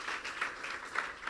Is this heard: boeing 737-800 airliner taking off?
no